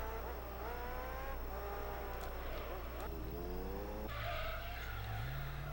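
An Acura NSX drifts through the tight corners of Monaco in a racing game, its tires squealing in repeated wavering bursts over a steady engine drone, with a higher gear pitch rising toward the end.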